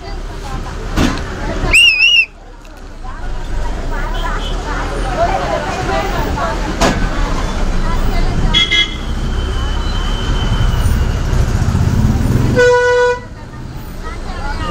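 A Kothur Lanka–Tenali bus pulls into Kolluru centre, its horn tooting in several short blasts near the start and again near the end, over steady engine and road noise with a busy crowd murmuring around it.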